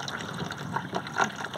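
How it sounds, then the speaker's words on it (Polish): A small pump lifts water from a makeshift tub pond in an urban garden, giving a soft, steady trickle and splash with a few brief gurgles, close by and fairly quiet. "testuję sobie, jak wysoko ta pompka jest w stanie unieść wodę, żeby to dalej tam siurało i działało."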